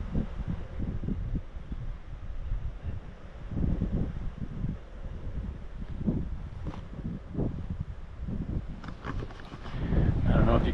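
Strong wind outdoors buffeting the microphone in continuous low rumbling gusts that swell and fade, with a voice speaking faintly underneath.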